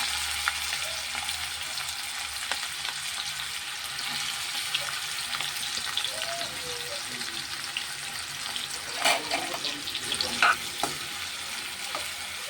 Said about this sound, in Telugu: అవి ఫ్రై అవుతున్నాయి కదండి ఉల్లిపాయ ముక్కలు